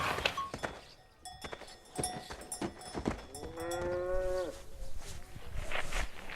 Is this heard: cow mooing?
yes